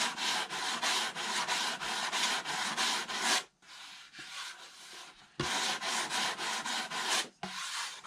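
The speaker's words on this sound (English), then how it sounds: "I'll go ahead and sand the sides a little bit." Sandpaper rubs back and forth on the sides of a balsa model airplane top block in rapid rhythmic strokes, two long bursts separated by a brief pause.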